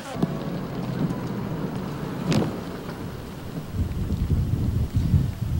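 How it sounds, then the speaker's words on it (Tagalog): Steady rain pours down with a deep rumble of thunder rolling through, and a sharp crack partway; a low background murmur sits beneath. "Kahit umuulan."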